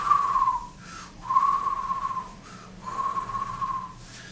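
A person whistles sustained bird-like notes, three long warbling phrases separated by short breaths.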